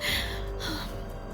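A woman's quick, breathy panicked gasping pants, close and urgent, with a sharp intake at the start followed by shaky exhalations.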